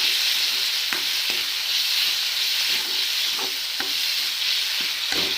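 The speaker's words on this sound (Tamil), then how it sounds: "ஸோ ஆட் பண்ணிவிட்டு இதை ஒரு கிண்டு விட்டுருவோம்." Tomato, onion and curry leaves sauté in oil with a steady, bright sizzle, while a spoon scrapes and taps the pan at intervals as the mixture is stirred.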